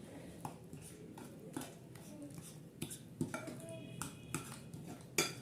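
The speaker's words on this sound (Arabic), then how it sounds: "نقلبها كويس علشان الملح يدوب والسكر يدوب" Spoon stirring potatoes with salt, sugar and oil in a pot for a potato and chicken gratin, giving repeated scraping clinks against the pot with some kitchen noise in between.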